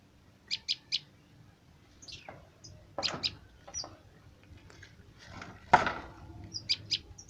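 Prinia birds kept in a lovebird cage give short, sharp chirps in scattered bursts, fairly close and clear against a quiet background, with a few louder calls near the end.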